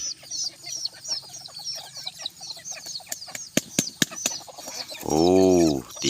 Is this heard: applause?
no